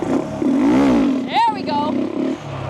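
A motorcycle engine revs up and falls back as the clutch is let out for a wheelie during a riding lesson, a rising and falling roar that sits under a loud shouted voice nearby.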